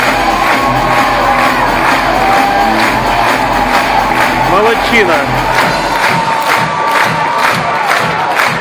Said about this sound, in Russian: весь цирк стоя аплодирует